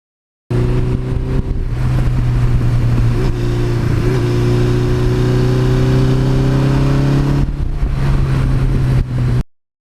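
A 1982 Suzuki GS1100E motorcycle engine runs loud and close, its pitch climbing steadily through a long rev before cutting back, then idling briefly before stopping.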